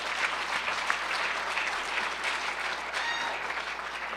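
A crowd claps in steady, dense applause that holds at an even level throughout, with a faint voice briefly audible underneath.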